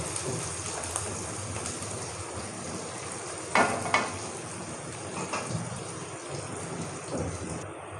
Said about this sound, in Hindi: प्याज को हमेशा गर्म ऑयल में डाला करें, प्याज हमारी जल्दी फ्राई हो जाती हैं